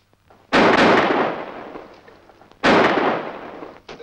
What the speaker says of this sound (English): Ballard just shot Johnson